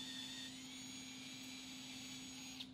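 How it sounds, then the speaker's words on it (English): A 5 mm reamer enlarges a drilled hole on a PM-935 knee mill, heard as a steady machine hum with a constant whine throughout, fairly faint and without talk. "we'll follow it up here with a 5 millimeter reamer to bring the hole to size"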